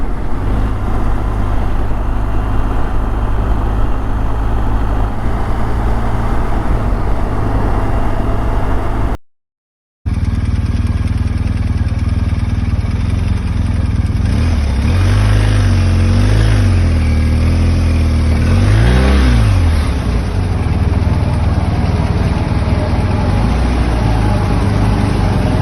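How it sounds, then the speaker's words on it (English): A car passes by during a BMW R1250 GS motorcycle ride in the Yukon. Steady engine and wind roar fill the clip, broken by a brief dropout, then a car rises and fades with a sweeping pass. "Oh, there's a car."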